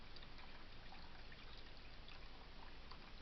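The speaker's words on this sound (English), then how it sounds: "now we're getting some goopy oil out of this" Goopy oil mixed with water draining out of an old Briggs and Stratton engine left outside, heard as a steady, close trickling and dribbling of liquid throughout.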